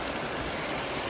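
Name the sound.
heavy rain in the mountains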